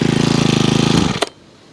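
A Honda HHH25 small engine with a replaced carburetor fires and runs in a fast, loud, rhythmic chug for about a second, then cuts out abruptly.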